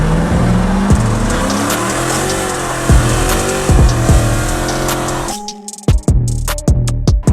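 A loud, throaty Dodge Magnum 5.7 Hemi V8 engine with an SLP catback exhaust roars and revs steadily, then drops off and barks through several sharp throttle blips near the end.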